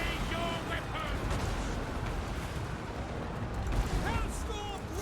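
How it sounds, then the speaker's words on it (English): Cannon and rocket battery fire in Total War: Warhammer, a continuous loud rumble of artillery and explosions from a battlefield, with voices calling out over the din. "Hellstorm rocket battery! Cannons fire!"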